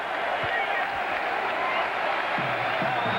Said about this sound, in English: you'll hear the crowd react to how important it really is